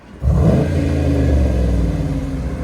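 A 2023 Dodge Challenger with a 5.7L HEMI V8 and Flowmaster Super 10 exhaust roars up loud and close after a brief quiet start, holding a deep, rumbling rev that sustains throughout.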